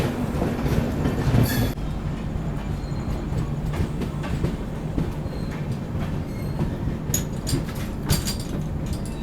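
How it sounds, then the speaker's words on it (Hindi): Packed Purnagiri Jan Shatabdi Express train leaving Hapur for Ghaziabad, a steady loud rolling rumble with rail clatter and a sharper burst near the start, continuous throughout. "पैक है भाई गाड़ी, गाज़ियाबाद जा रही है ये।"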